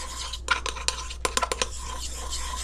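Homemade coconut oil lotion mixture being stirred in a bowl, giving soft scraping and scattered light clinks of a utensil against the container, close and fairly quiet with no talking.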